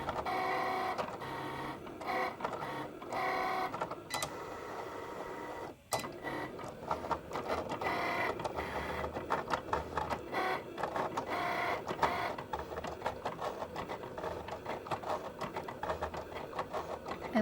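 Cricut machine cutting heat transfer vinyl in mirror image, its motor whirring and buzzing continuously with shifting tones and a brief pause, close and moderately loud.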